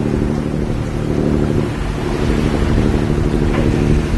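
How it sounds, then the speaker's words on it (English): A sailboat motor sailing on the open ocean in about 5 knots of wind, a loud, steady low engine drone mixed with rushing water and wind buffeting the microphone, no voices. "So we're motor sailing today."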